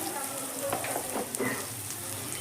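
Chopped vegetables fry in a pan with a pinch of turmeric, giving off a steady, close, even sizzle that continues throughout with a few brief stirring rustles.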